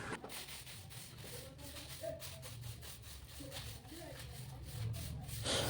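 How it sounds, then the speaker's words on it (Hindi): A broom sweeps dusty indoor stairs with quick, repeated soft scraping strokes at a low, close level, steady and rhythmic throughout. "तो अब जल्दी जल्दी झाड़ू लगा दें जीना पे"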